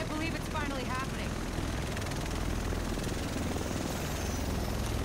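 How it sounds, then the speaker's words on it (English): A helicopter arrives in The Division video game, its steady loud rotor and engine roar filling the whole stretch, with brief game voices over it at the start. "Here it comes. The rest of us should be in this chopper."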